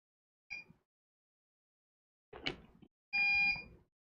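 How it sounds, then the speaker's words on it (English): Three separate electronic beeps from a QNAP TBS-h574TX NAS during a firmware update, spaced over a few seconds: a short tone, a brief burst, then a longer steady multi-tone beep, in a quiet room. "Getting some beeps, that's good. Telling us things are progressing."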